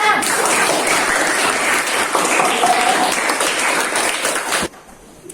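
A school classroom full of students claps loudly and continuously for several seconds before the applause stops abruptly.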